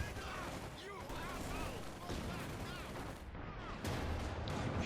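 Field gun fire and battle explosions from Company of Heroes 2, an SIS-3 field gun shelling amid a continuous dense din of gunfire and blasts, loud throughout with a commentator talking over it.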